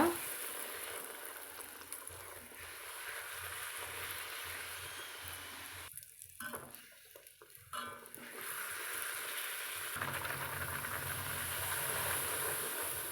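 Puris deep-fry in hot oil with a steady, loud hiss and crackle that runs throughout, with a brief quieter dip partway through.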